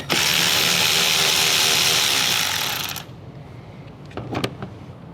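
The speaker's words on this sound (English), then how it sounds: "we're gonna grab a 12mm and take the nut off" A power tool whirs steadily and loudly for about three seconds while a 12mm nut comes off the power post of a Toyota 4Runner during an amplifier install, then stops and leaves a few small clicks and taps.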